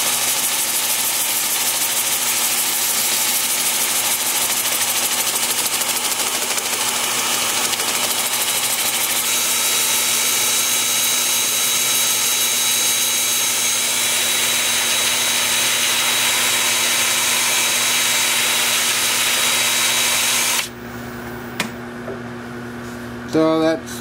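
A wood lathe spins in reverse at about 400 RPM while an 80 grit 2-inch sanding disc works the turned wood, a steady loud whir that cuts off near the end.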